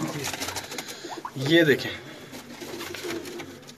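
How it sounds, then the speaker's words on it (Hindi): Kuwaiti pigeons in Wazirabad coo nearby in a short throaty burst, with someone speaking briefly over the soft ambient flutter. "उम्मीद करते हैं आपको ये कबूतर पसंद आएंगे"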